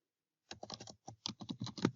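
Typing on a computer keyboard to enter a username, heard as a close, quick run of a dozen or so crisp key clicks in uneven bursts after a brief silence.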